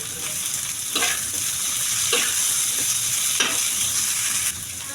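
Shredded cabbage and mixed vegetables stir-fry in a hot pan for restaurant-style chicken chowmein: a constant loud sizzle swelling in short bursts each time the spatula tosses them, with no speech.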